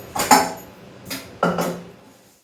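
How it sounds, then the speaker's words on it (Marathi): Metal dishes being washed clank and knock together in three short bursts, close and fairly loud, with brief pauses between them and no voices. "आधी सर्व भांडी व्यवस्थित पाण्याने चोळून वगैरे व्यवस्थित करून घेते आणि मग घासते"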